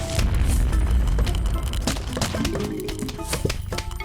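Cob cannon blasts in the game Plants vs. Zombies: Replanted on a fog endless level, heavy deep booms rolling over a dense, busy game soundscape with layered effects, close and loud throughout.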